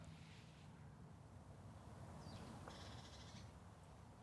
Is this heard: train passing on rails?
no